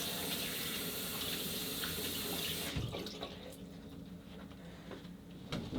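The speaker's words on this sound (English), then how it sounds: "to wash my hands because I just had hair products all over them. And do a nice wash." A bathroom tap runs steadily as hands are washed clean of hair product, a close continuous splash that drops lower after a few seconds, with faint rubbing and a small knock near the end.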